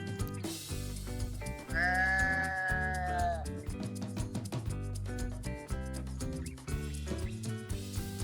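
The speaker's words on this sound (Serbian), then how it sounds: "Tako je, to je ovca." A farm sheep gives one long, wavering bleat lasting over a second, clear and close, over steady background music.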